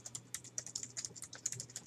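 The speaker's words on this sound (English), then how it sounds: "Sorry if I'm literally talking as I'm typing." Rapid, uneven keystrokes on a computer keyboard while coding, a close run of crisp clicks and taps at a steady working pace, with no voice over them.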